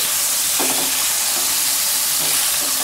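Salted potatoes go into hot fish oil for a Bengali rohu fish curry, giving a steady, loud broadband sizzle and hiss that runs throughout, with a few soft stirring scrapes near the pan.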